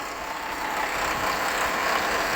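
A Suzuki Grand Vitara 2.5L V6 engine runs steadily, heard close up, with a dense mechanical whir and rattle from worn timing chains.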